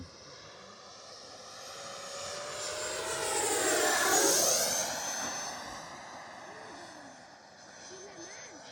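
An E-flite Viper 90mm EDF RC jet makes a flying pass, its ducted-fan whine rising and sweeping in pitch as it nears overhead, then fading as it moves away, loud at the peak against open-air background.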